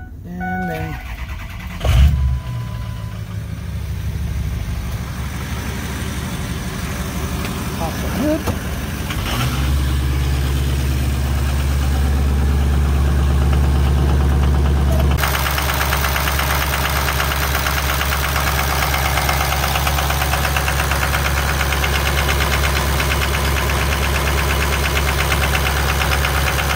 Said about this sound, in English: fire it up really quick, let you hear the engine